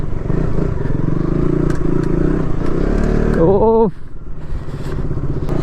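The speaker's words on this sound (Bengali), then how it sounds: "ও হেভি মজা আসছে ভাই বাইক চালিয়ে এখানে।" A KTM RC 200 motorcycle riding over a rough, broken road, its engine droning loudly with clattering and jolting, a brief rising whine near the end, and a rider's short exclamation over it.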